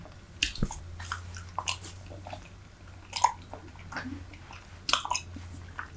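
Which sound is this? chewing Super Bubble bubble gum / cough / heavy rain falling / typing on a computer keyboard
chewing Super Bubble bubble gum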